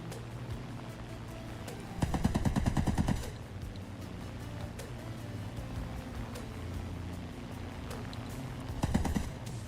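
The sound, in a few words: aircraft machine gun fire in video game War Thunder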